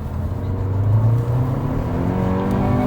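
A Kia K5 with a 2-litre turbo engine accelerating, a steady, loud engine drone with rising tones building smoothly over a few seconds from inside the car.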